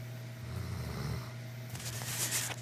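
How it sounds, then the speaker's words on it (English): A dog sleeping on a bed snores softly with low, rumbling breaths, close and quiet, ending in a faint snort and rustle. "That's Murphy snoring, laying here in between me and Daddy."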